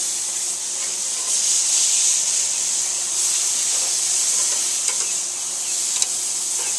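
Lean beef burgers sizzle steadily on a hot grill surface while being flipped, giving a continuous loud frying hiss with small crackles and a brief scrape of the spatula, and no talking.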